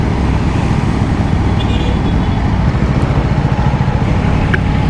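Road traffic noise heard from an Aprilia Tuono V4 Factory motorcycle in rain, a loud, dense, continuous rumble of engines and wind that stays steady throughout with no speech.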